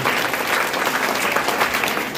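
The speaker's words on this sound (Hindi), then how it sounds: "जोरदार तालियां।" An audience at a village quiz competition held for Gandhi Jayanti claps steadily, a dense, even wash of applause from many hands, loud and continuous with no speech over it.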